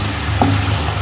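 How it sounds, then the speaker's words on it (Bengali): Fried prawns drop into sizzling masala in a pan, a steady hiss of hot oil with one soft thump as they land, close and continuous. "এখন আমি এখানে ভেজে রাখা চিংড়ি মাছগুলো অ্যাড করে দেব।"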